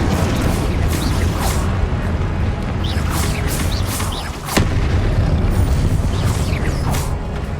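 Confringo blast spell in the game Hogwarts Legacy, heard as a dense run of booming blasts and bursts with a sharp crack near the middle, loud and continuous, with no talk over it.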